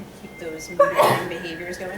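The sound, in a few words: sneeze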